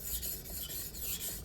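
A knife blade rasps back and forth across a whetstone in a quick, even rhythm, close and clear with no talking.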